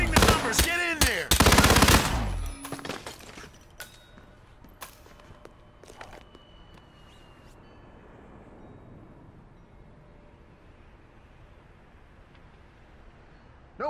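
Automatic gunfire in Hitman 2's Paris level: a loud, rapid volley of shots dominates the first seconds, then sparse single cracks and clatter trail off into a quiet, rumbling ambience.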